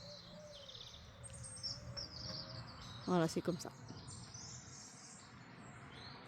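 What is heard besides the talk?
birds singing outdoors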